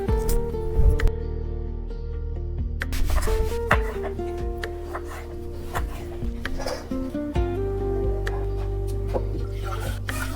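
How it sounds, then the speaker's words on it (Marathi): A knife cuts through mahua fruit close up, with repeated sharp taps and scraping strokes on a board across the stretch, while steady tonal music plays underneath. "हे मोहाची फळत ना आता हे कापून घेऊ आणि याच्यातल्या ब्या काढून घेऊ"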